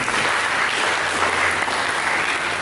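A church congregation breaks into loud, dense applause during a sermon, a steady roar of many hands clapping evenly throughout with no voices over it.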